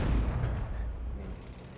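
A heavy weapon firing from a mech in Armored Core VI, a deep, loud, low boom that rumbles and slowly fades over about two seconds.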